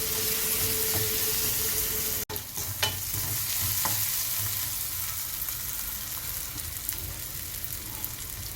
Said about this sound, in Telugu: పచ్చిమిర్చి పేస్ట్, అల్లం పేస్ట్ పచ్చి వాసన పోయే వరకు వీటిని బాగా ఫ్రై చేసుకోవాలి